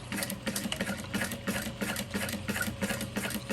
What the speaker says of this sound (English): So now I'm going to follow the edge of my foot along that traced line. So we're sewing in about 1/8 of an inch.